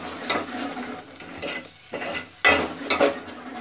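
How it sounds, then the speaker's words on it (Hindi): A ground spice paste for pepper rasam fries in a pan, with soft sizzling under repeated spatula stirs and scrapes that come in uneven bursts, some louder, with brief quiet gaps and no talking. "इसको अच्छे से फ्राई करना है अभी"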